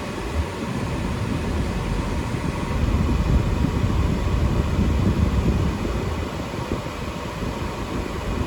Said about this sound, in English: AC blows cool.